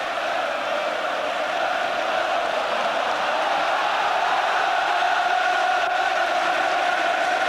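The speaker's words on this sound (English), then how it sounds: "It's the first time the Tottenham crowd have really let themselves go this afternoon." A large football crowd at a Tottenham FA Cup quarter-final against Notts County gives a sustained, loud, dense roar that swells slightly and carries on without a break.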